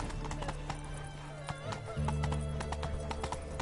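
Roach the horse galloping in Witcher 3, a quick steady run of clip-clop hoofbeats on hard ground over a low game soundscape with a few distant tones.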